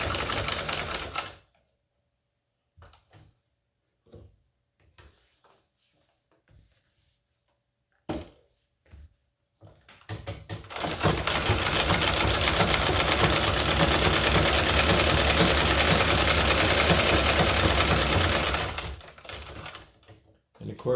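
Singer model 12 treadle sewing machine stitching in a steady rapid mechanical clatter for several seconds, preceded by scattered clicks and short bursts as it starts and stops.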